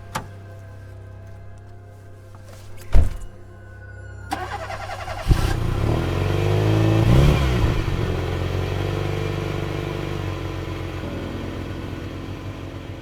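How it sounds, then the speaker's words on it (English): A car door thumps shut, then the engine cranks and catches. It revs up into a sustained, rising drone as the car pulls away and keeps driving, close and loud, with no talk. "Once in the car, I started the engine and drove back in the direction we came from."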